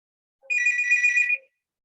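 A single telephone ring burst, electronic and steady, sounds close and alone during a tutoring session on simple interest, with silence around it.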